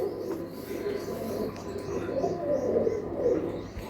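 Soft coos from white Budapest pigeons repeat steadily against a low background hum, fairly close and gentle, with no talking.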